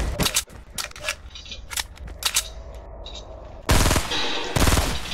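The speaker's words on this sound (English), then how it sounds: "I sniped one for a body shot." Fortnite gunfire crackles in short bursts, scattered sharp shots early followed by two loud, dense volleys of rapid fire near the end.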